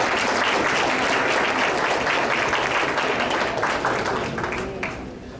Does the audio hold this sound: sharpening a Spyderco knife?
no